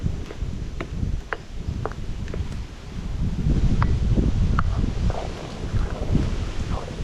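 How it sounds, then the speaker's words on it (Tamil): Steady wind blows hard across the microphone with a continuous rumbling roar, joined by occasional faint rustling and small knocks. "நல்லா காற்றடிக்குது"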